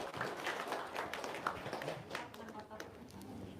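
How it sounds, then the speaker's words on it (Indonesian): Scattered hand clapping from a small group, faint and uneven, with quick taps running through a few seconds beneath people talking. "Sip, tepuk tangan dong"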